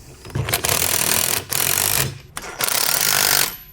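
A 3/4 inch wrench tightens a bolt on a MicroSport trailer wheel during assembly, making three loud, rasping bursts of mechanical clatter with short pauses between them, close to the microphone.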